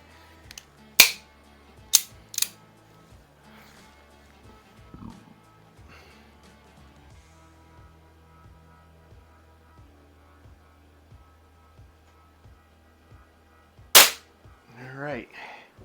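Baikal IZH-46M air pistol fired at a 10m target: three sharp, loud cracks near the start, a steady low hum between, then one more shot late followed by a short rustle.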